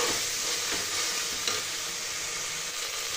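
Vegetable masala curry with salt frying in a pan as it is stirred: a dense, even sizzle and hiss throughout, close and continuous, with soft stirring scrapes and no voices.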